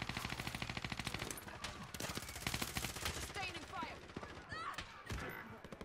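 Rapid video-game gunfire from a shooter match, bursts of automatic shots rattling continuously near and loud, with a player talking excitedly over the shooting.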